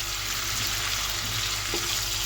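Onions frying in a pan, browning for a spicy chicken roast; a loud, continuous sizzle with steady bubbling and occasional stirring, close up and without talk.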